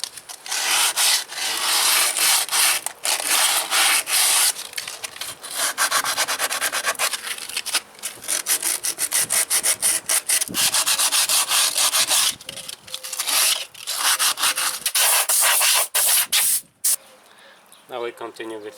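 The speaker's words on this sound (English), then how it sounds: "You only need a little bit sandpaper for that. And sand a little bit down the edges." Sandpaper rubbing the edges of a drum brake part during brake maintenance, a loud, continuous rasping scrub in quick back-and-forth strokes with brief pauses, ending in a short lull.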